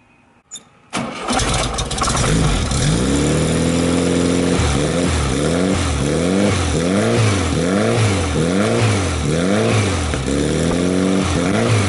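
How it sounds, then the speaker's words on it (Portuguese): A warmed-up car engine catches after a brief crank, then runs close and loud, revving repeatedly in a steady rising-and-falling rhythm between idles. "Bom, o motor está aquecido."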